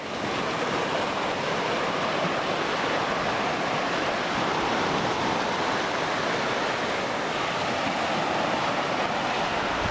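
Ocean waves wash onto a beach in a steady, loud hiss of surf, a continuous broadband roar with gentle swells and no voices.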